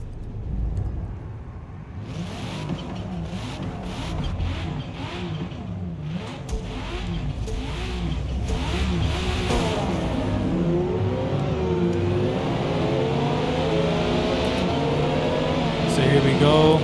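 Race car engine in a sim racing game, a continuous near whine that climbs and drops through repeated gear shifts as the car accelerates, growing louder toward the end under occasional talk.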